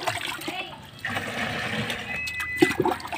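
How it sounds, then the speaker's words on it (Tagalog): Water pours and splashes into a container holding five spoonfuls of systemic pesticide, a rushing gurgle that rises and shifts over a few seconds, with a brief clatter near the end. "Punuin lang natin ng tubig."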